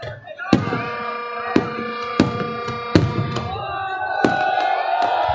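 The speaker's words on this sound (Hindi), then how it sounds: "मीनार पाकिस्तान से इस टाइम दिखाया जा रहा है जो आतिशबाजी हो रही है।" Fireworks burst over Minar-e-Pakistan during Independence Day celebrations, with a series of sharp booms at irregular intervals over a continuous crowd roar and a voice talking.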